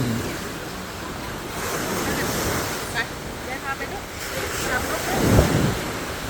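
Sea waves washing steadily onto Wongamat beach in Pattaya as the tide rises, a continuous surf roar with wind buffeting the microphone and someone speaking over it.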